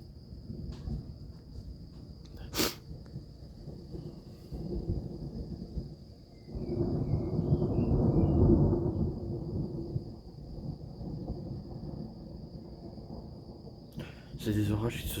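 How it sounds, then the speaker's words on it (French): Thunder rumbles during a fast-forming hailstorm, a broad low roll swelling in the middle of the clip over steady outdoor background noise and a constant high electronic whine, with a sharp crackle early and noises near the end. "C'est bien, il y a du tonnerre, mais on voit pas un peu d'éclair."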